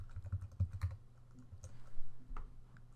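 Computer keyboard being typed on at a desk during a 3D software tutorial: a quiet, irregular run of soft key clicks, faint and close, with no talking.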